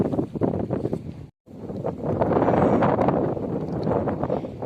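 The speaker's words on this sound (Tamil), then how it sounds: "இன்னைக்கு காற்று அதிகமாக போட்டிருக்கு." Strong coastal wind buffets the microphone in continuous gusty roars with rustling texture, briefly cutting out once before surging back louder, with no talking.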